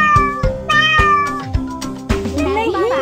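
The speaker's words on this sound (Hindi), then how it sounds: "नहीं बाटलीटो, ये बिल्ली की आवाज है।" A cat meows several times in quick, rising and falling calls over bright, tonal backing music, close and loud.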